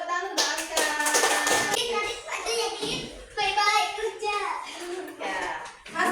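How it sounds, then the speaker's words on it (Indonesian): Children in a classroom clapping hands in short bursts, mixed with kids' chatter and talking that continues through and between the claps. "tepuk tangan untuk Mbak Kartika."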